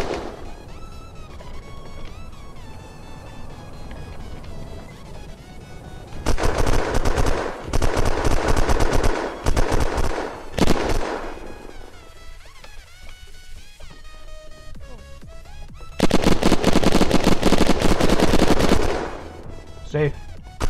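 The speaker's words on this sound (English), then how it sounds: "Alright, I'm just gonna start shooting." Rapid automatic gunfire in the video game Unturned during a base raid, coming in two long, loud sustained bursts over music and game noise.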